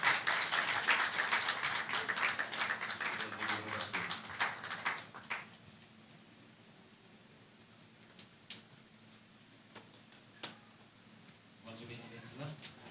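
A Haitian Baptist church congregation at a revival service breaks into loud, thick applause that fades after about five seconds into scattered claps and taps, with voices murmuring over the quieter stretch.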